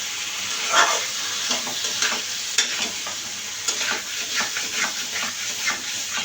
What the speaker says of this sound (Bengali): ভাজা হয়ে গেলে বা ব্রাউন কালার হয়ে গেলে আমি মাখিয়ে নেওয়া ঢেঁড়স এবং আলুটা দিয়ে দিব।